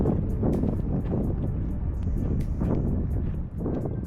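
Strong wind roars and buffets the microphone during a trail ultramarathon on the Hurtwood 50 km course, a loud, continuous gusting rumble that rises and falls through the whole stretch with no talking.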